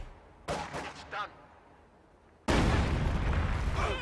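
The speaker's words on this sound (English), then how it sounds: "booby trap wipes the squad there" A booby trap in the Company of Heroes 2 strategy game goes off with a sudden loud burst that rumbles on to the end, after a few brief earlier blasts.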